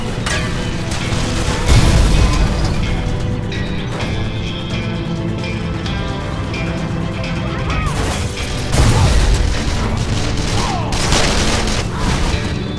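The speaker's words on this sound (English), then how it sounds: "they're shooting at me!" Gunfire and explosions from the video game Call of Juarez The Cartel: sustained dense shooting with heavy booms, loud and continuous throughout, with louder blasts near two and nine seconds.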